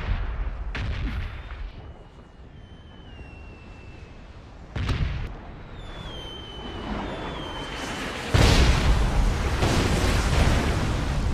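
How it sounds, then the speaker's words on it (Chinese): Heavy booms of a bombing-zone barrage in PUBG during a custom god-mode match, several deep blasts rolling in at irregular intervals with a loud, dense rumble building near the end. "有轰炸区声音咋看不到轰炸区呢"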